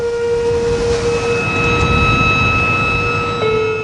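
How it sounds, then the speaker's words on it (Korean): A ship's horn sounds from one of the fishing boats gathered at sea to protest sea-sand mining, a loud, sustained, steady blast with faint overlapping tones from other horns under constant background noise. "백고동 소리와 함께"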